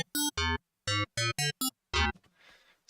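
Ableton Operator FM synthesizer with one operator modulating the others, playing seven bright, buzzy, harmonic-rich stabs in an uneven rhythm, ending in a short noisy tail.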